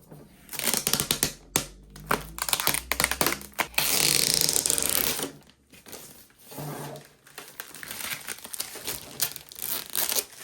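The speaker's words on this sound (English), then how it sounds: "Pull this plastic off" Protective plastic film peeled off a PS5 1TB 30th Anniversary Limited Edition console, close crinkling and tearing crackle in several bursts with short pauses, one long loud rip in the middle.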